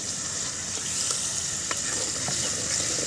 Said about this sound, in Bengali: এখন আবারও নেড়ে দিচ্ছি। পেঁয়াজটা দেওয়ার পরেও কয়েক মিনিট নেড়ে নিয়েছি।